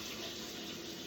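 Warm tap water runs steadily and close into a measuring jug for pizza dough, a continuous even rushing stream with no pauses.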